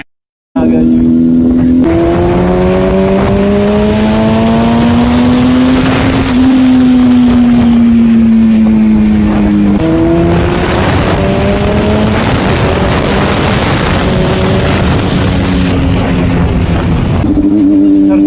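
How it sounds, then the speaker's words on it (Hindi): A motorbike ridden fast on a road between Abbottabad and Mansehra in Pakistan, its loud, close engine whine rising and falling through gear changes over steady wind rush for the whole stretch. "मैं जरा सा बाइक तेज चलाता हूँ"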